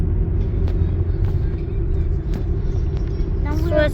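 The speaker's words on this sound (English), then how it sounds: "We're driving again." A car drives along a road with a steady low engine and tyre rumble throughout, and a voice talks briefly near the end.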